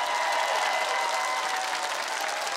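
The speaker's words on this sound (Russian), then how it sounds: "Мы вас поддерживаем этими аплодисментами." A studio audience at a televised dance competition applauds, dense and loud clapping sustained from start to finish with no pause.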